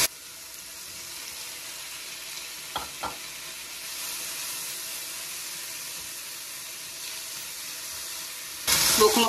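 Tomato strips and peppers sautéing in a pan give a steady, close sizzling hiss, with a couple of soft stirring knocks early on and a brighter clatter of utensils near the end.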